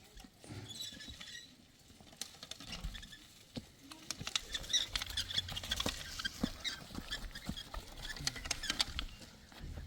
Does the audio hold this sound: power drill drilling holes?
no